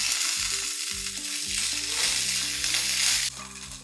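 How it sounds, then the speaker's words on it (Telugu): A handful of garlic cloves and a spoon of cumin seeds fry in hot oil with a steady, dense sizzle, close and continuous, with no talking over it. "వెల్లుల్లి, ఒక గుప్పెడు వెల్లుల్లి, ఒక చిన్న స్పూన్ జీలకర్ర మంచిగా నూనెలో వేగనిద్దాం."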